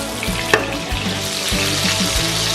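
Ribs sear in a hot skillet with a steady crackling sizzle, close and loud, punctuated by a few metallic knocks and shifting thumps as the meat is moved.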